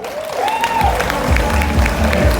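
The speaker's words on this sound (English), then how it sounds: "Give them a round of applause." Audience at a sharing session applauding a speaker, steady clapping close and fairly loud for a couple of seconds, with a voice briefly heard at the start.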